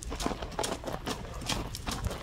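Horse hooves clip-clop at a slow walk, a handful of moderately close thuds in loose rhythm over a low background hum.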